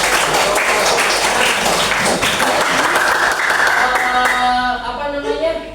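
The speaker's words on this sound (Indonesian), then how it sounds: "Kasih tepuk tangannya dulu." Participants in a training session on AI give loud, dense applause that fills most of the clip, with voices and cheering rising over it as the clapping fades near the end.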